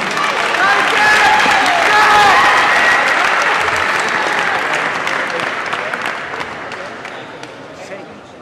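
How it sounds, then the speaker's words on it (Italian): Crowd at a cage fighting event applauds between rounds, loud sustained clapping with shouts and voices mixed in, slowly fading toward the end. "facciamo un applauso ragazzi."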